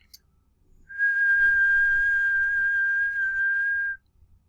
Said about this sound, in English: A whistle is almost a pure sine wave.